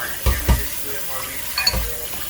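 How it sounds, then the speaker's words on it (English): Running tap water rinses a pot in a sink, giving a steady faint hiss with a few low knocks and bumps from the pot. "Let's go ahead and give it a rinse."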